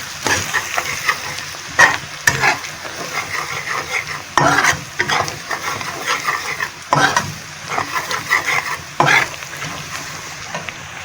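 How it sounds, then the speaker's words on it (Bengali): A spoon stirs spices with coriander and ginger powder in a sizzling frying pan, with repeated scraping strokes at an irregular rhythm over a steady close fry, with no voices. "আদার গুঁড়ো দিয়ে এবার এগুলোকে আমি নেড়ে দেবো মশলাগুলোকে"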